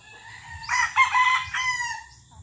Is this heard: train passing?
no